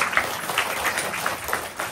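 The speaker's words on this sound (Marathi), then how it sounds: "एकदा त्यांच्या परिवारासाठी टाळ्या वाजवल्या पाहिजे." An audience claps together at a family birthday celebration, a dense continuous patter of applause held at an even level for the whole moment.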